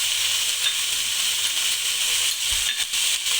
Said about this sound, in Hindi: वेजिटेबल्स हमारी फ्राई हो गई हैं